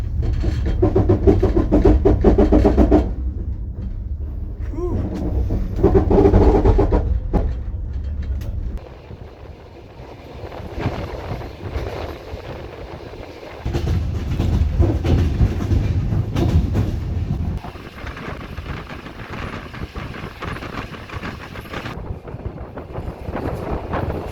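A train with its parking brake left on rumbles and rattles along the rails in Odesa with a harsh, grinding roar that surges and fades in waves, with wind buffeting the microphone.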